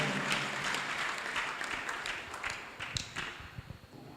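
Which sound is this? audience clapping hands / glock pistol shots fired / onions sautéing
audience clapping hands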